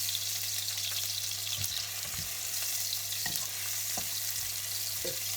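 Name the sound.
kapenta (matemba) frying in a pan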